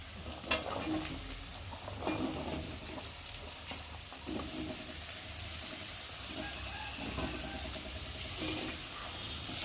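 Steady sizzling and frying in a pan, with occasional scraping stirs and clinks punctuating the continuous crackle.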